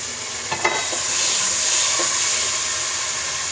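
Garlic and ginger paste sizzles and hisses in a hot pot for chicken biryani, a steady frying wash with a few sharp clinks and stirring scrapes near the start, no voices.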